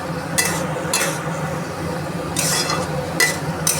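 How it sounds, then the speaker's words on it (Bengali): Spices, coriander and red chilli powder, stirred and fried in a pan, with a soft steady sizzle under a few sharp bursts of metal spatula scraping and clinking against the pan. "একটু ধনের গুঁড়ো দিলাম, লাল লঙ্কার গুঁড়ো দিচ্ছি, দিয়ে আমি ভালো করে কষাবো"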